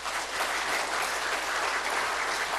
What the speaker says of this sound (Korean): 우리 서로에게 감사 박수 좀 쳐주시죠.